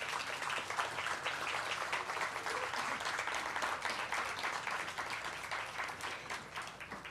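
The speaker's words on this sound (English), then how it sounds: "let's start with a round of applause to all partners and sponsors of Sarajevo" Audience applause at the Sarajevo Film Festival partners awards ceremony, a steady dense wash of many hands clapping that holds evenly for several seconds with no break.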